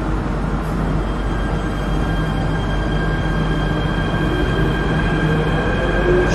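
Inside a moving Jakarta MRT metro carriage, a steady, loud rolling rumble with faint sustained electrical whines runs continuously, with no voices.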